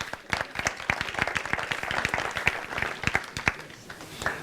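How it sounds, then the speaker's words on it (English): A small audience at a dental and orthodontic management seminar claps for a volunteer, giving brisk, uneven applause from a modest group with distinct individual claps. "A round of applause for Bilal"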